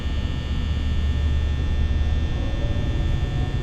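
Steady electrical fan hum from a horror video game, a constant low drone with a faint higher whine, unchanging and alone.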